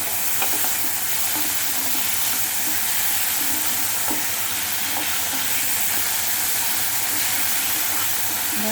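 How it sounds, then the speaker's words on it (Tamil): Onion, green chili and tomato sauté in hot oil for a Tamil-style egg curry, a steady loud sizzle and frying hiss with intermittent stirring scrapes throughout, no talking. "பச்சை மிளகாயை போட்டுடலாம் தக்காளியை போட்டுடலாம் நல்லா வதங்கணும்"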